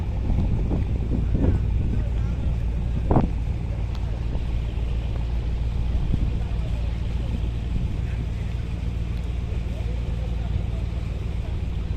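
Large three-deck Surovi 8 passenger river launch under way in bad weather, a steady low engine drone and broad wind and water rush continuing throughout, with brief faint voices near the start.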